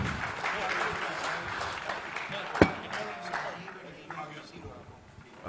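Audience applause at a tech business event, a broad wash of clapping from a crowd that holds steady and slowly thins out, with a single sharp clap standing out partway through.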